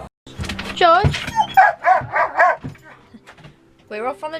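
A pet dog barks and yips in short bursts, close by and fairly loud, mixed in with a person talking near the boat.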